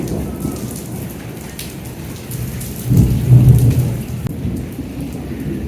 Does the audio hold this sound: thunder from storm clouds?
yes